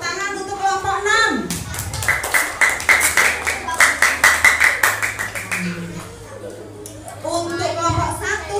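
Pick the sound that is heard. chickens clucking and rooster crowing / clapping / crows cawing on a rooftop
clapping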